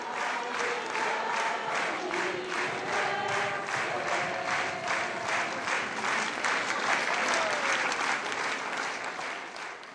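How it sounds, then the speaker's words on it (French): A theatre audience gives Ballet Biarritz a standing ovation at its tenth-anniversary performance, with dense, sustained applause and crowd noise filling the hall for the full stretch and voices calling out within it. "Des applaudissements debout,"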